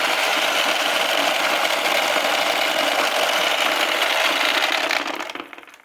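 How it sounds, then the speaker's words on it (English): Dense, steady metallic clatter of pachinko balls draining from a 1975 Nishijin Galloping Horse pachinko machine with its tray unlatched, loud and continuous for about five seconds before tapering off quickly. "This is what happens when you need to drain all of the balls out of your machine and it's not latched."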